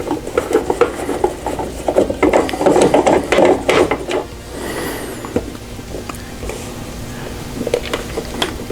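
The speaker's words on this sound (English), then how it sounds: "with the 6 Phillips screws removed, the top should come right off" Phillips screws being backed out of a Nintendo NES console: close, rasping ratchet-like clicks and scraping in busy bursts over the first half, then sparser handling noises with brief pauses.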